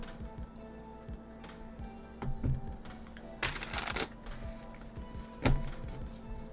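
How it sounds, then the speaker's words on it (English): Tarot cards shuffled by hand in a quiet room, soft riffling bursts and papery slaps recurring irregularly, with a longer louder riffle in the middle, close and alone without talk. "Okay, that's just like calming to me when I'm just sitting here and shuffling."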